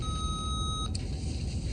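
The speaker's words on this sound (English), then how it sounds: "leave a message after the beep" An answering machine gives a single steady electronic beep lasting under a second over a constant background hiss, then cuts off sharply.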